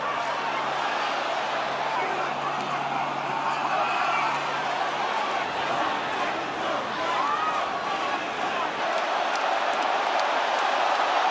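A boxing arena crowd at a heavyweight title fight in London roars in a steady, loud wash of cheering and shouting, with a low hum dropping out partway through.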